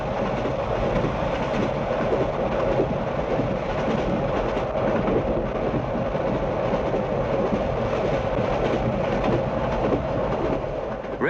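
A train pulled by the Flying Scotsman steam locomotive rumbles steadily past in 1967 with a continuous roar and a faint clickety-clack of wheels on rails, heard from inside or close by, with no talking.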